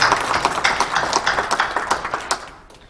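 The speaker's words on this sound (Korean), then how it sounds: "한번 박수로 영광 드리겠습니다." A church congregation at a presbytery founding service applauds together, a dense, steady burst of clapping that rings out for about two and a half seconds before tapering off, with no talking over it.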